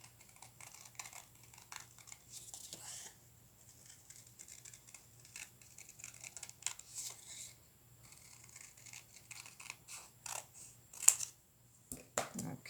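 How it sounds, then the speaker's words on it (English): Scissors cutting out a paper heart, a series of soft, close snips and crisp paper rustles in uneven bursts against a quiet room with a faint low hum, no voices. "Now I'm going to cut this one out."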